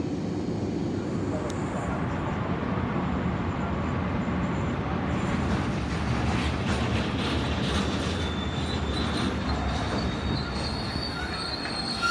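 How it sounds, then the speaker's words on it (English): Freight train rolling past at close range and slowing to a stop, a steady loud rumble of wagons on rails with high metallic wheel squeal ringing above it throughout. "Okay, first freight train stopped."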